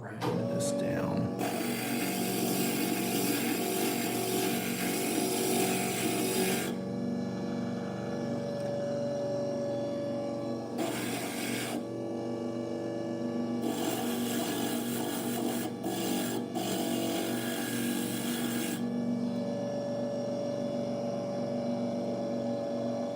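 A glass grinder works on cut stained glass pieces for a praying mantis design, a steady whirring drone with bursts of harsher abrasive hiss, running close throughout while occasional talk is heard.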